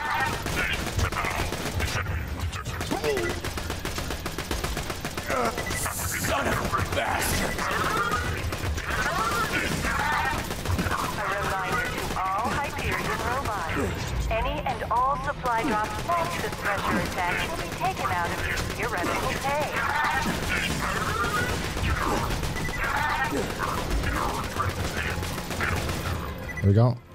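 Rapid, sustained gunfire from a gun in Borderlands 2, bursts of shots running almost continuously over game sound effects, with voices talking over the action at times.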